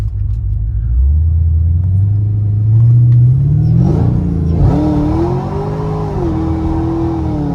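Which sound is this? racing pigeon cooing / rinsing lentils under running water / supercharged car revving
supercharged car revving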